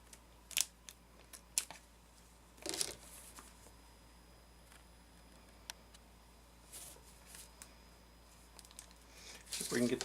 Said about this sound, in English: See if we can get these scissors underneath.